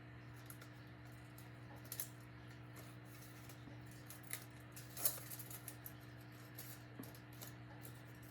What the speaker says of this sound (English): I'm just gonna take the scissors and cut it off where it'll fit the aluminum foil.